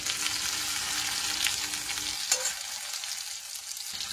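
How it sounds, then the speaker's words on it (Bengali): Chopped onion frying in hot oil with cumin seeds, a steady dense sizzle that drops away sharply partway through, leaving a quieter faint crackle with one brief clatter. "পেঁয়াজটা হালকা করে ভেজে, হালকা ব্রাউন মতো করে পেঁয়াজটাকে ভেজে নেবো।"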